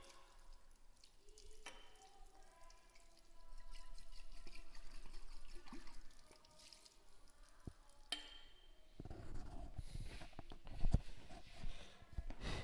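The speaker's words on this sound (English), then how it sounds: "Now reject the yellow solution and wash the conical flask thoroughly." A conical flask is washed with running water at a lab sink, with trickling and dripping water, glassy clinks and a louder rushing splash toward the end.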